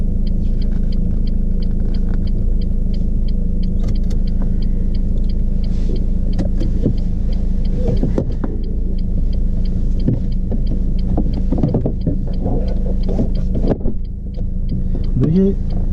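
A car engine idles steadily at close range, a constant low rumble with a faint rhythmic ticking, during a French driving test; people talk over it.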